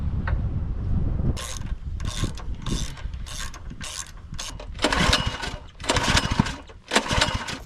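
A small pump engine is cranked over with a pull cord, giving repeated rattling, ratcheting bursts of pulls close by that sputter without catching into a steady run.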